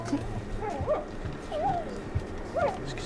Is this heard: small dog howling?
yes